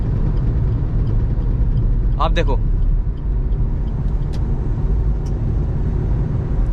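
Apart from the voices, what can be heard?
car noise while driving, unexplained sound in cabin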